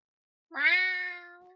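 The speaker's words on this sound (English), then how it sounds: "That like specific meow." A cat gives a single clear, drawn-out meow, close and fairly loud, rising then slowly fading, with silence around it.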